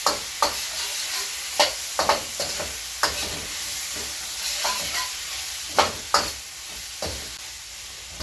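Sliced pork stir-fries in a wok with apples, a constant hiss of frying punctuated by sharp, irregular scrapes and clanks of a spatula against the metal, close and without talk.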